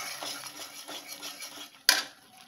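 Spoon clinking and scraping against a pan while sugar is stirred into chhanar dalna, a Bengali paneer curry, a few soft strokes ending in one sharp metallic knock near the end.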